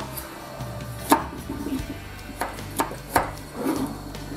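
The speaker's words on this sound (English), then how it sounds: "The carrots, we're going to peel them into nice chunks, same size as the leek." Knife chopping carrots into chunks on a board for a French veal blanquette, with a handful of sharp, separate thunks spaced irregularly over a quiet kitchen background.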